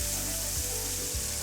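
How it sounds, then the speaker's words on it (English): Steaks of beef tenderloin sizzle loudly in hot vegetable oil in a pan, a steady close hiss and crackle with no pauses. "when we add our steaks, we'll hear this really great sizzle"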